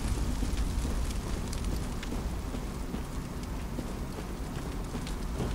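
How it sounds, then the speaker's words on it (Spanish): Dense crackling and roaring like fire burning from a burning horse in the video game Bloodborne, steady and close, with sharp pops scattered throughout and no voices. "Un caballo incendiado. Prendido."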